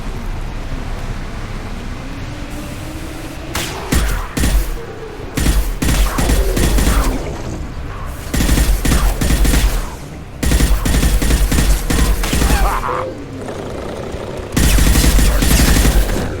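Gunfire in Mass Effect Legendary Edition: loud, close bursts of rapid automatic shots come in several clusters over a constant rumbling combat backdrop, with heavy low thumps between volleys.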